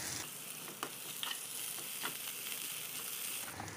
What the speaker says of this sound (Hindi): लहसुन प्याज भी देखिए अच्छे से भून चुके हैं